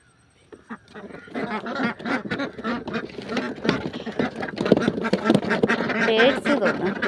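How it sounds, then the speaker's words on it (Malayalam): Domestic ducks quack in a loud, close flock as their coop is opened, with dense overlapping calls and flapping throughout. "താറാവിൻ്റെ കൂട് തുറക്കാൻ പോവുകയാണേ"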